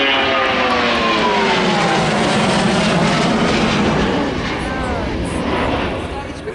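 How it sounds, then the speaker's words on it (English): A Royal New Zealand Air Force Boeing 757 makes a low fly-past, its loud, broad engine roar steady overhead. Rising and falling whine tones sweep across it as the jet passes, and the roar fades slightly toward the end. "I'm going to go quiet now as this beautiful aircraft gives us a fly pass."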